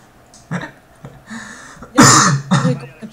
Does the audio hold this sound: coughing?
yes